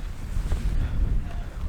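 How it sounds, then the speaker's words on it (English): Strong wind gusts buffet the microphone at a desert campsite in Big Bend after sunset, a steady low roaring rush with no speech. "the wind has really picked up"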